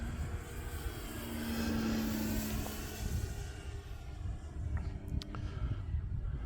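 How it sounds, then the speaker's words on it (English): A small model airplane's propeller engine drones steadily overhead at about half throttle, its pitch rising as it climbs, heard from a moderate distance against outdoor background noise. "About half throttle in that climb, so plenty of power in this airplane."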